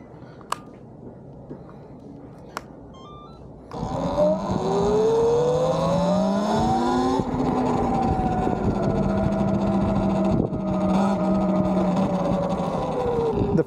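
A Talaria XXX electric dirt bike fitted with KEMIMOTO foot pegs is ridden off: after a quiet start, a steady rising whine and road rumble hold loud and close for about ten seconds.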